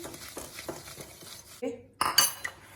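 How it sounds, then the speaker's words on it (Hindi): Butter and sugar are mixed by hand in a bowl with a spoon, producing a run of soft rhythmic scrapes followed by a few sharper clinks of metal against the bowl, close by and with no voices. "इसे मैं शुगर ऐड कर देती हूँ। अच्छे से इस तरह से मिक्स कर लें।"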